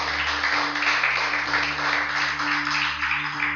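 A congregation claps together during a church service, a dense steady wash of applause over a low electrical hum, sustained evenly with no voices.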